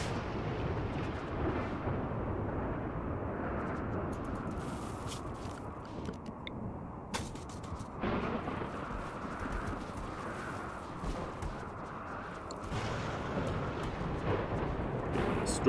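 A storm rumbles in the colony-building video game RimWorld: continuous low thunder with occasional sharper cracks and booming swells that runs the whole stretch without any voices.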